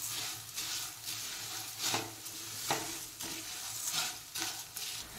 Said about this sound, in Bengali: এইবার এতে দিয়ে দেব 2 কাপ পরিমাণ মুড়ি দিয়ে খুব ভালোভাবে এটা নাড়াতে হবে।